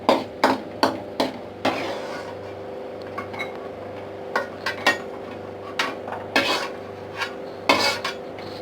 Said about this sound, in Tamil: இப்போ முந்திரி வறுபட்டுருச்சு.